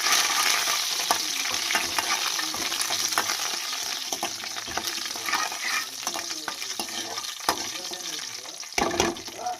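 Spices and curry leaves for a South Indian chutney tempering fry in hot oil with a steady, dense sizzle and crackle throughout, close and fairly loud, with occasional sharp pops and a faint clink or two.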